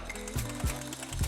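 Quick ratchet clicks while loosening bolts on the steering rack of a 2003 Acura MDX, a few short bursts of pawl ticking separated by brief pauses.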